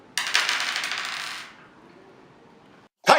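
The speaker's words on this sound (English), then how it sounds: "roll the dice." Dice tossed for a game of Monopoly: a burst of bright clattering rattles for about a second and fades out, then a short quiet stretch and a sharp second clatter at the end, close and loud, with no talking.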